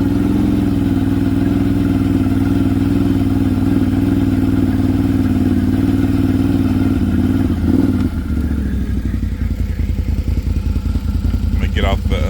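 Four-wheeler ATV idling steadily in a grassy pasture, a loud low mechanical drone that shifts and clatters near the end as the engine note changes.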